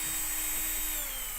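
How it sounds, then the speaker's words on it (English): A power drill whines steadily and loudly, close up, as it punctures holes in a homemade cat house, running continuously without pause. "what the drill's for is I just kind of wanted to puncture some holes"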